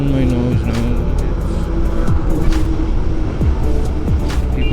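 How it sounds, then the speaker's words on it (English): Heavy highway traffic in Aurangabad, heard up close from a motorcycle: engines drone and rev loudly, and vehicles pass with falling whooshes under steady wind and road noise. "The traffic is terrible."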